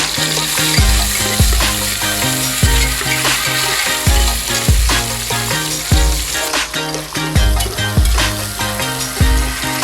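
Shing fish, stinging catfish, fry in a pan with chopped onion while being stirred: a dense, loud sizzle broken by regular scraping and clunking strokes of a spatula against the pan, close up, with no voices.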